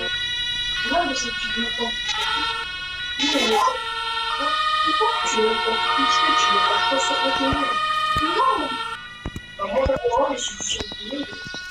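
Fire engine and emergency sirens wail in the video game Emergency Hamburg, rising and falling tones under lively talk from a player.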